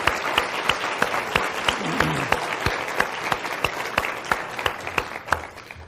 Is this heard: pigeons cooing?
no